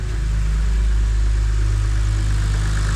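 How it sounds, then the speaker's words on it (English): A BMW N52 six-cylinder engine idles steadily right after starting back up, a close, loud, even low rumble holding constant with no talking. "They sound perfect, these BMW 6-cylinder engines do."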